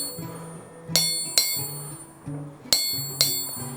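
Hammer striking a steel anvil on hard ground, four sharp bright rings in two pairs, each strike loud and close with a short metallic decay.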